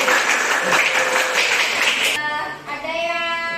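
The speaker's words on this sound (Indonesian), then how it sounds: "Oke, tepuk tangan." Students in a classroom break into loud, dense clapping for about two seconds, which then cuts off as a person starts speaking.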